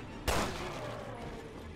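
A single loud gunshot in Resident Evil: Revelations 2, a sharp blast that decays into a ringing tail, heard close and on its own.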